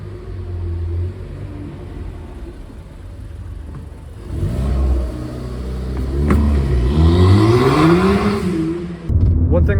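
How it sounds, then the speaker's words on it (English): A 300 bhp Ford Fiesta ST builds loud, close engine rumble as it accelerates on the road, revs climbing in rising sweeps with brief dips between gear changes and a lift off the throttle at the end. "So we're going to go for a little drive, see how it drives."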